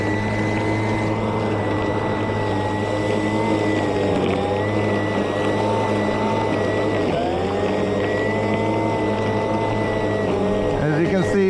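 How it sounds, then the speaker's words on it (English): A Milwaukee M18 battery-powered electric lawn mower cuts through a rough patch of mixed weeds and grass with a steady, loud motor whine. Its pitch dips briefly where the mower bogs down. "time for a little POV of the mower in action here for you"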